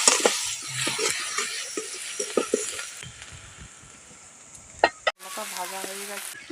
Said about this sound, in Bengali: হলুদের সাথে সাথে রসুন বাটাটা দিয়ে দিচ্ছি একটু ভালো করে এগুলোকে ভেজে নেব